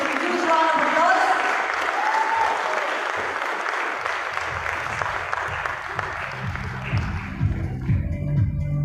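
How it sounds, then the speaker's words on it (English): Conference audience at a restaurant industry summit inauguration bursts into sustained applause, dense clapping filling the room steadily before thinning out near the end as a few voices and low murmurs come through. "Give a huge round of applause."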